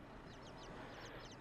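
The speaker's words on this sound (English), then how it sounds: "birds are back." Birds in the game Inside give quick, repeated quacking calls over a dense, noisy ambient backdrop, faint and brief.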